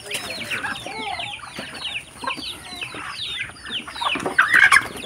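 Flock of Muscovy ducks begging for food in the morning on a rural farm, a busy chorus of overlapping soft hisses, clucks and chirps, close and continuous, growing louder near the end.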